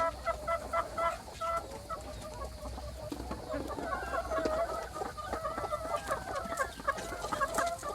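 Several egg-laying village hens cluck and murmur nearby in overlapping, irregular bursts, with a busy barnyard background and no talking.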